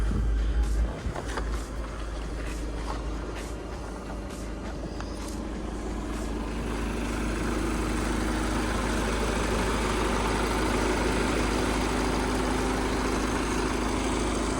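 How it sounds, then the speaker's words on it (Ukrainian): A 2013 Skoda Octavia Scout 2.0 TDI diesel with DSG gearbox and 263,000 km idling close by, a continuous low rumble with a faint clatter, running alone with no talk. "як ви чуєте, двигун працює ідеально, двомаси жодної тут не чути"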